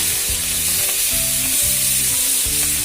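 Onion fries in a kadai for a veg cheese pizza, a loud continuous sizzling hiss with a repeating low humming tone underneath.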